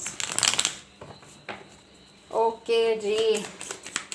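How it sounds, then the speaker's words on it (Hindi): Tarot cards are shuffled by hand in short papery riffling bursts, with someone speaking briefly in between. "One last shuffle."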